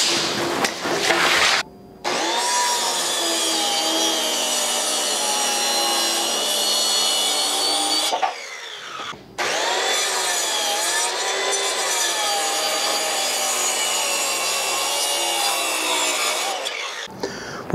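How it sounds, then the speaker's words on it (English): A power saw cuts through wooden panels in two long, steady passes with a sustained whining, rasping tone, broken by a short pause near the middle. "The next step is to take these two panels and cut them off 85 inches from the bottom."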